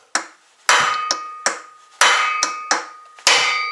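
Sharp, ringing hammer blows strike metal on a Foresta FC-45 LX brush cutter during seal replacement, about eight times at an uneven pace, each hit loud and close with a short metallic decay.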